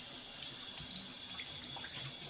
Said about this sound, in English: Let me rinse this off really quickly.